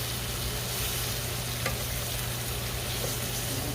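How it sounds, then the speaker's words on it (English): Seasoning with garlic powder sautés in a pan for Jamaican-style red herring and ackee, a steady, even sizzle and crackle with no pauses. "we're gonna let that just saute out for a while before we add our ready ring in there"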